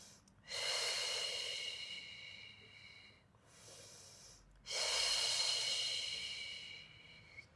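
Two long, loud, hissing breaths taken close to the microphone during a Pilates abs and core mat workout, separated by a brief pause, with no talk over them.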